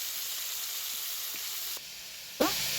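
Potatoes frying in a pan while being stirred until reddish for a Bengali poppy-seed dish, a soft continuous sizzle with a brief dip and then a sharper scrape and hiss of stirring near the end.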